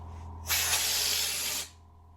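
Spray gun blasting coating up into the underside of a Peugeot J9 van, a loud steady hiss that bursts in abruptly, holds for about a second, then cuts off, over a low background hum.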